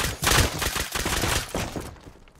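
Rapid gunfire in the survival game Rust: dense, loud bursts of shots with sharp repeated cracks, fading out at the end.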